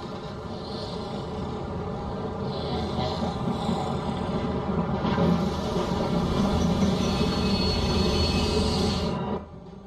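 A train rumbles along steadily in The Walking Dead video game, a dense, continuous mechanical drone with some higher whine that holds at a fairly loud level before cutting off near the end.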